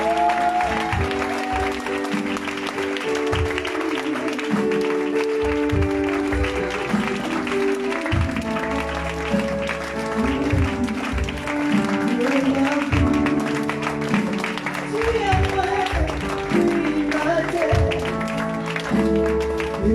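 A church congregation applauds in praise, a dense, sustained clapping that fills the hall over music and voices throughout.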